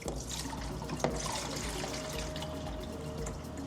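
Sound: pouring water into ice ball maker reservoir

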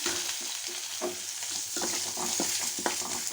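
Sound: curry leaves sizzling in tempering oil

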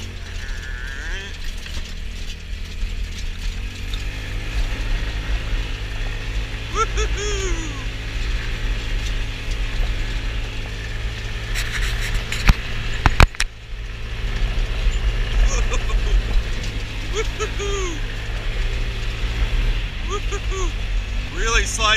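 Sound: Trailmaster 150 XRX go-kart driving on gravel

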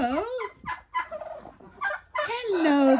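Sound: turkeys gobbling

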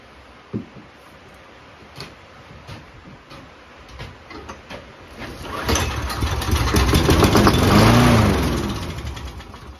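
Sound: old lawn mower engine starting and running

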